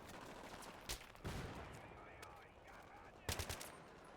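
Gunfire in Battlefield 3 during a mission in Iran: a few sharp, loud bursts of shots separated by quieter stretches of low game ambience, with one strong volley near the start and another near the end.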